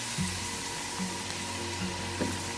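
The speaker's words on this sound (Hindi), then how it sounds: "चिप्स हमारी फ्राई हो रही है, देखें कितनी अच्छी लग रही है।" French fries sizzle in hot oil in a home kitchen as a steady, moderate hiss with a few soft pops and bubbles, and no one speaks.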